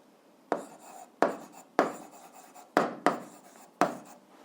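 A pen writes out a physics problem solution on paper in six distinct, quiet scratching strokes, each starting sharply and trailing off, with short pauses between and no voices.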